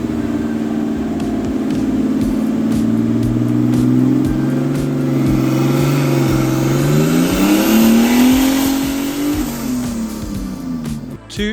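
Turbocharged stock BMW E46 running on E85 during its first dyno pull, a loud engine rev climbing steadily in pitch for several seconds before dropping off at the end.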